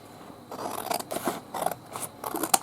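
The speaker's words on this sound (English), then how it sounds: "I'm just going to roughly cut that first" Scissors roughly cut paper for a paper bag journal, giving close, crisp snipping and sliding blade sounds in a few quick bursts, alone without talk.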